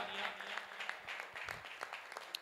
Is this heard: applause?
yes